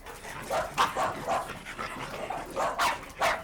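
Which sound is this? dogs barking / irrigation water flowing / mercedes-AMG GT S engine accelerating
dogs barking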